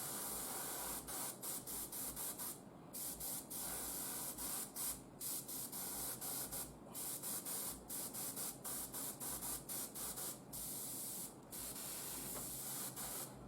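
An airbrush sprays paint for a molten metal effect on a 7 to 8 inch tall Imperial Knight model. The steady, close hiss runs the whole time, broken by many short regular pauses as the trigger is released, with no voices.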